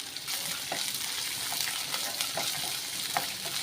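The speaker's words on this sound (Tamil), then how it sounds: "நல்ல எண்ணெயிலே ஃப்ரை பண்ணி விட்டுக்கோங்க" Shallots, chili and green peas fry in oil in a pan with a constant, close sizzling hiss and a few soft stirring scrapes; no talking.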